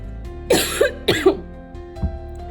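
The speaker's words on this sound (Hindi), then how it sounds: "खांसी मेरी अभी भी ठीक नहीं हुई है" A woman with a lingering cough gives two close, loud double coughs, each a pair of harsh bursts in quick succession. A faint, small throat sound follows after a pause, in a quiet indoor space.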